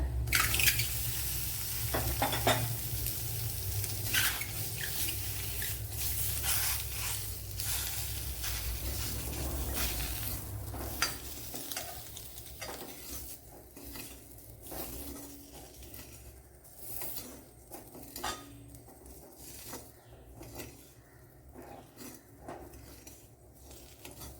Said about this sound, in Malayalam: ഇതിലേക്ക് ഇനി മുട്ടയായിട്ട് കുഴച്ചെടുക്കാം.